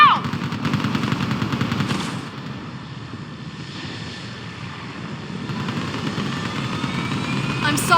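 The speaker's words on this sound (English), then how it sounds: "Get that gunship moving! Now!" Gunship engines and gunfire in Mass Effect 3, a constant loud aircraft engine roar under rapid machine-gun bursts, strongest at the start and end.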